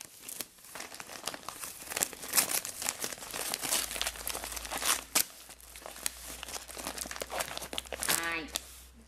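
A plastic package is crinkled and torn open by hand, with dense, close crackling bursts throughout and a quick zipping rip near the end.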